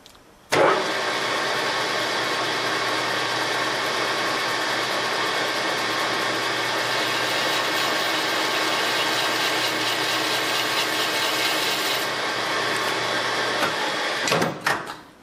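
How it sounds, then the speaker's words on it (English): A lathe runs continuously while a tool bit cuts a 45-degree chamfer on a Renault H-beam connecting rod, giving a loud, steady machining whine and rumble that starts abruptly and winds down near the end. "it's going to be cutting a 45 degree chamfer on there"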